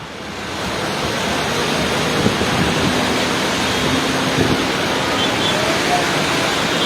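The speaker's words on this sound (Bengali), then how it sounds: "প্রচুর পরিমাণে বৃষ্টি হচ্ছে প্রচুর পরিমাণে যেটি মুসলধারে প্রবল হাওয়া প্রবল জড়ো হাওয়া বইছে" A dense, steady roar of torrential rain driven by strong gusting wind during a storm in Dhaka fills every moment, loud and continuous, with a voice faintly talking beneath it.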